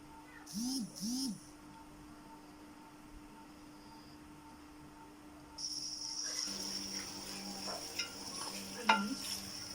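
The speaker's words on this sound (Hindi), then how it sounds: "चिकन को फ्राई कर लेंगे। चिकन को हम तब तक फ्राई करेंगे जब तक इसका कलर चेंज ना हो जाए।" Chicken pieces for a cauliflower and meat curry fry in a pan while being stirred. A soft, steady sizzle with scraping stir sounds starts partway through, following a quieter opening with a few brief chirpy tones.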